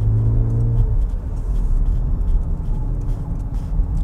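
A VW Polo GTS accelerating hard through curves during a road test, a steady engine roar and road rumble heard from inside the cabin, rising briefly at the start and holding a continuous drone.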